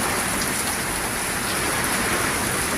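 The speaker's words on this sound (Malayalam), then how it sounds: "ശക്തമായ കാറ്റും മഴയുമുണ്ട്" Heavy rain and wind from Cyclone Fengal in Tamil Nadu pour down in a dense, unbroken hiss, loud and constant, with no voices.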